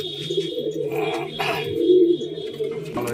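Carrier pigeons kept at a home loft coo close up in repeated throaty phrases, several birds overlapping in a rhythmic, rolling murmur.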